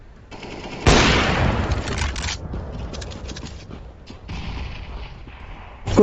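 In Counter-Strike: Global Offensive, a loud, close grenade blast erupts and slowly fades into a crackling tail. Scattered gunfire follows, and another sharp hit comes right at the end.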